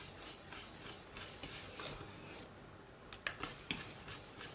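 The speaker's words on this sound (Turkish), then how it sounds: "Ara ara karıştırarak muhallebiyi ılıtalım." A spoon scrapes and rubs intermittently against a pot of cooling vanilla muhallebi custard, producing quiet rasping strokes with a few sharper clinks, heard alone and fairly faint.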